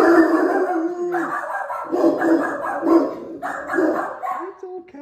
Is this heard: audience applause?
no